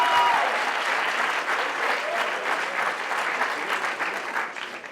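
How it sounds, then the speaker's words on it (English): A roomful of guests applauds at a retirement party, a loud, continuous wash of clapping that stays strong before easing slightly at the end. "Let's have a big round of applause for her."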